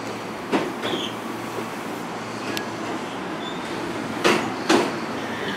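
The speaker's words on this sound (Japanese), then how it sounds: "まもなく2番線に電車が参ります。" A train arrives at platform 2 of a Japanese railway station, a moderate rolling rumble with a few clanks and knocks from the cars as it comes in.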